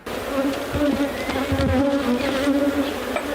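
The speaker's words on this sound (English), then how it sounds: "The swarm of bees emerged from an old abandoned wooden house nearby." A swarm of bees from an old abandoned wooden house buzzes close and loud, a steady droning hum with individual insects passing near, plus a few faint thumps underneath.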